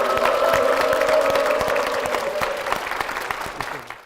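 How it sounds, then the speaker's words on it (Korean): A church congregation applauds in a dense burst of clapping that is loud at first and gradually thins and fades out over a few seconds. "박수로 맞아주십시오."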